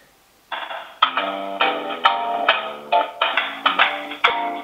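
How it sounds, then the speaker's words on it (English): A computer softphone on a desktop rings for an incoming call. A bright electronic ringtone repeats in quick, evenly spaced pulses, loud and close, after a moment of silence. "my desktop's ringing"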